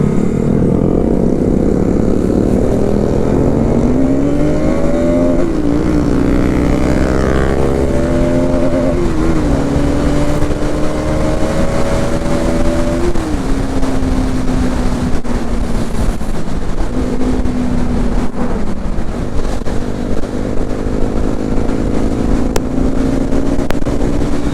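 A Bajaj Pulsar NS200 BS7 motorcycle on the move, its engine and exhaust droning loud and close with pitch climbing through the revs, dropping at gear changes and rising again, over constant wind rush and no voices.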